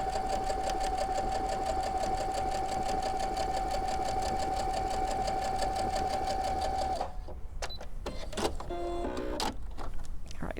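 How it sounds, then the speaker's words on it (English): A sewing machine stitches a pinned quilt block, running steadily and close for about seven seconds, then stopping, with a few light clicks and handling noises afterward. "And I can just feed that right in as well."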